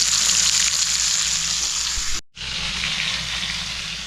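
Fish fries in a pan with a steady, loud hiss and sizzle, which cuts out briefly for a moment and then resumes at a slightly lower level.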